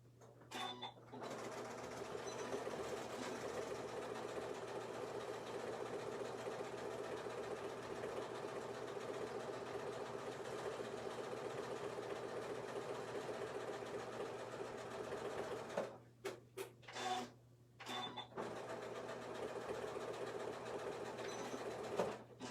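A sewing machine stitches a French seam on a small tote, running in a fast, steady whir for about fifteen seconds. It then stops and starts in short bursts, with a low constant hum underneath.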